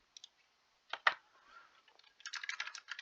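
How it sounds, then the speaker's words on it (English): Typing on a computer keyboard: a few isolated clicks, then a short pause, then a quick, fairly soft run of keystrokes that grows into a dense clatter near the end, with no talking. "we're gonna just type this out."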